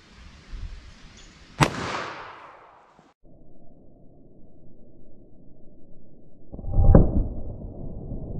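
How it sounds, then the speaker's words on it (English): Loud gunshot of a .45 ACP or .44 Special handgun fired into a test block during a ballistic test, a single sharp crack near 1.6 s followed by a second heavy impact near 7 s, with steady background noise between. "Let's see if I can make an accurate shot."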